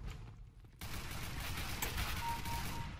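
Rapid, sustained machine-gun fire from an Arms Race gun-game match in CS:GO, a dense continuous burst that starts abruptly after a brief quieter moment and stays loud to the end.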